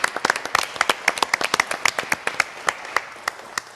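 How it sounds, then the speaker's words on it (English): Audience at a town hall broadcast clapping, with sharp, distinct individual claps, close and steady, that gradually grow sparser as the applause winds down. "I think we all want to give applause to this great audience today"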